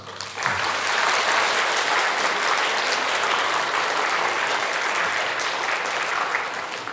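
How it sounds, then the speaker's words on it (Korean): A church congregation at a Sunday service applauds to welcome visiting missionaries: steady, dense clapping from a large crowd that swells in quickly and holds at an even, loud level throughout, with no voices standing out. "우리 한번 박수로 환영하겠습니다."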